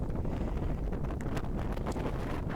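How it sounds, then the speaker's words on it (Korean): Strong wind on the summit of Hallasan, South Korea, roars steadily across the microphone, a dense, buffeting rumble with gusty fluctuations and no voices. "지금 바람이 좀 많이 불어서 바람 소리 때문에 제 목소리가 안 들려서"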